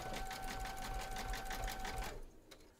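An embroidery machine stitches an in-the-hoop teddy ear in a rapid, even needle rhythm, with a faint tonal whine, quiet and close, before stopping abruptly near the end.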